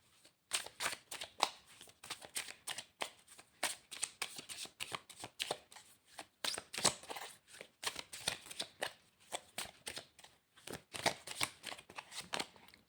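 Tarot cards are shuffled by hand, a rapid run of crisp riffling and flicking bursts in uneven clusters, close and fairly quiet with no one speaking.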